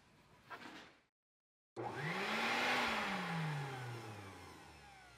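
An automatic infrared vacuum mousetrap's small motor whirs up loudly after a brief silence, a close high whine that rises in pitch then slowly winds down.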